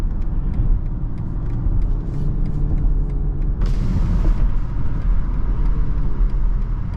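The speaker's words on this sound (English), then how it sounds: "Let's go ahead and put this SUV back in sport mode." A 2022 BMW X3 SUV driving in sport mode gives a steady low engine and road rumble from inside the cabin, with a brief burst of hiss partway through and no voices.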